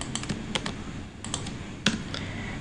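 Keys clack on a computer keyboard while code is entered, a quick irregular run of light taps close by with a couple of sharper, louder strokes.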